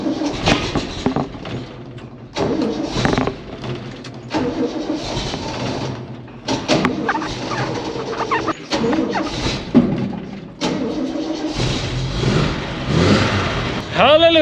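An old red truck with a suspected flat battery cranks in several bursts, then catches and runs, its engine rising and settling, with birds and occasional voices in the background.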